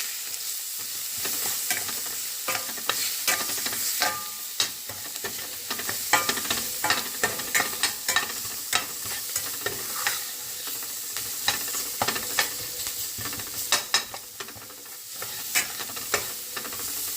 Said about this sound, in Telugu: పసుపు, ఉప్పు ఇవన్నీ ఫస్ట్ వేసేయాలి. మంచిగా ఫ్రై చేయాలి.